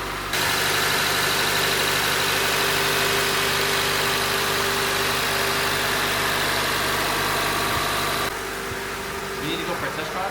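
A K24-engined Acura TSX wagon idles steadily and close by after a VTEC actuator replacement, a continuous even hum that stops near the end, with a voice briefly heard over it.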